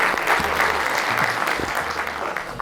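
A studio audience at a New Year comedy show claps in a steady, dense burst of applause that fills the room throughout.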